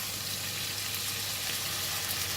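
Green peas fried rice stir-frying in a hot pan, a steady, dense sizzle that holds evenly throughout with no talking.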